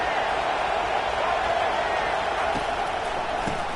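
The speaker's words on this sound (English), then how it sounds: "This crowd bringing the energy and noise early." Football stadium crowd roaring steadily throughout, a dense continuous wash of cheering and noise with no breaks, loud and close.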